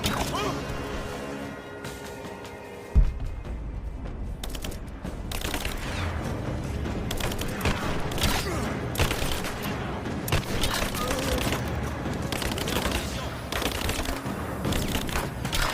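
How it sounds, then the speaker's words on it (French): Gunfire aimed at the player in Rise of the Tomb Raider: a sharp crack near three seconds, then dense bursts of shots and impacts over game music and effects, with a voice talking over the action. "On me tire dessus!"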